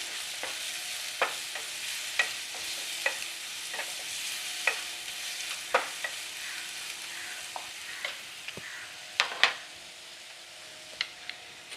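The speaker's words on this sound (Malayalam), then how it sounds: "ഇനി ഇത് നമുക്കിതൊന്ന് വഴന്ന് വരുന്നത് വരെ ഒന്ന് ഇളക്കി കൊടുക്കാം" Chickpeas for kadala roast frying in a pan, stirred with steady scraping and a sharp spoon tap every second or so over a soft continuous sizzle, close and fairly quiet.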